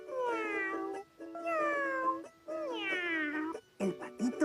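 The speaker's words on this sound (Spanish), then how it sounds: "El gatito dice." A cat meows three drawn-out times, clear and close, followed by a few shorter broken calls.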